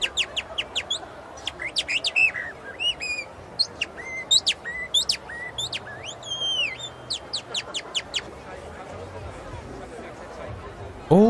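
A man at one of the oldest and smallest stands at Munich's Oktoberfest whistles bird imitations: a long run of quick, bright chirps and warbling trills, close and lively over a faint crowd murmur.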